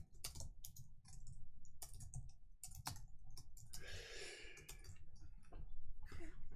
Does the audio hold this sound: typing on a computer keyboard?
yes